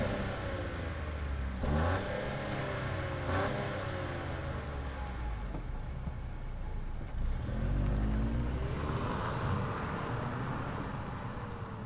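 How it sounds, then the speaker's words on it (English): A 2025 Buick Envista Avenir's small three-cylinder engine is heard with rising and falling revs, a moderately loud, close engine drone with swelling pitch sweeps over steady background rumble. "let's fire up this little 3-banger and see this Envista roll."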